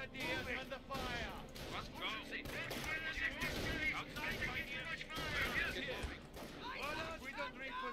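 Gunfire pours onto German Volksgrenadier infantry in a World War II real-time strategy battle: sharp shots and bursts crackle repeatedly at moderate loudness while voices talk over the fighting.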